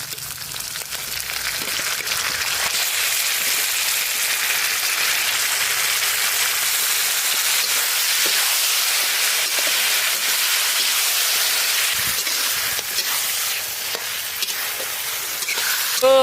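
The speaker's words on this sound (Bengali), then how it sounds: "এখন ম্যারিনেশন করা চিকেন আমরা দিয়ে দেবো।" Marinated chicken sizzles in a hot pan during village-style Bengali chicken curry cooking, a loud, steady hiss of frying that continues unbroken with no talking.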